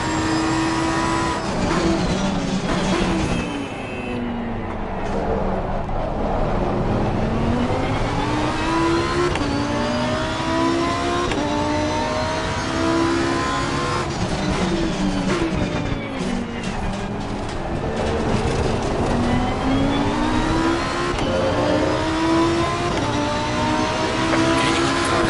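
Race cars lapping Donington Park circuit, engines revving loudly and continuously, with rising and falling pitch through gear changes and corners and other cars close by throughout.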